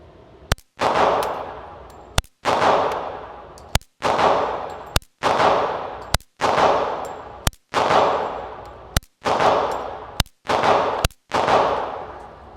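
A Glock 44 .22 pistol fired through a Huxwrx 22 Ti suppressor at an outdoor range: about nine sharp, evenly spaced suppressed shots, each followed by a short ringing decay, loud and close, with no talking.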